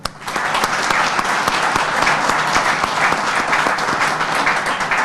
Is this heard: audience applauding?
yes